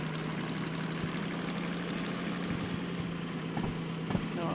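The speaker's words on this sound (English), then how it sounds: "It sounds like a big meaty diesel." A BR Class 03 DM3 diesel-mechanical shunting locomotive idles in the Derail Valley railway game, its low, steady engine drone rumbling evenly with a few faint clunks near the end.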